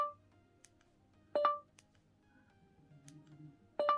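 Buttons on an LG V60 ThinQ 5G phone in a Poetic Karbon Shield case are pressed, giving faint clicks and two short electronic beep tones against a quiet room background.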